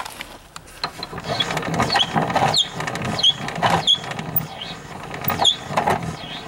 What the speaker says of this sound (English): Wow, listen to that spring.